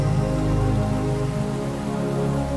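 Rain falls steadily in a dense, even hiss of drops striking surfaces, close and continuous for the whole short stretch, with no voices over it.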